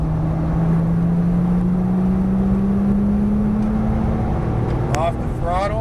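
A Porsche engine holds a steady, loud drone on a race track as the pitch climbs gradually under acceleration, with an instructor's voice talking over it throughout.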